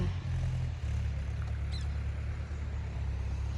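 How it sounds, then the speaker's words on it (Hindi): A tractor engine runs beside sugarcane fields near a resort, a low, steady diesel rumble that continues throughout at moderate distance. "ये देखो यहाँ पे ट्रैक्टर भी चल रहा है"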